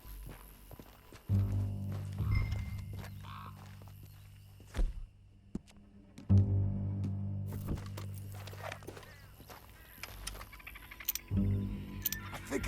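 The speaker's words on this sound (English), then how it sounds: "Get back on your horse." Horse hooves clip-clopping in Red Dead Redemption 2 as a rider mounts and sets off, soft irregular hoofbeats in bursts with quiet gaps between them.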